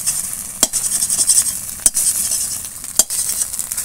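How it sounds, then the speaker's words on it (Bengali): A fried egg, browned on both sides in oil, is broken apart in a frying pan. A steady loud sizzle carries three sharp utensil knocks spaced over a few seconds, with no voices. "এবার ডিমটা আমি এইভাবে ভেঙে নেব।"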